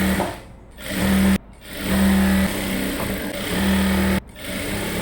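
A sewing machine runs in several loud, close bursts while stitching a gown seam, its whirring stitch rhythm broken by short pauses and brief stops.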